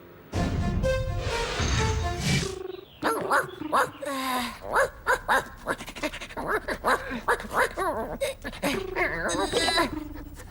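A cartoon dog barks and whimpers in a run of short, yappy calls and whines, with a character's voice talking in between.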